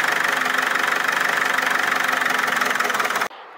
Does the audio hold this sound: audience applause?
no